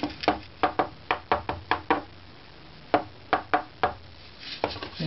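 Knuckle taps on a violin plate, with the bass bar being shaped, check its tap tone. Short hollow wooden knocks land in quick clusters, close and fairly quiet, with no talking.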